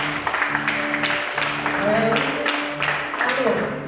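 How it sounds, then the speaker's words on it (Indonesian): A stadium worship crowd breaks into applause that runs throughout, with a voice and some tonal sound faintly mixed underneath. "Tepuk tangan bagi saya."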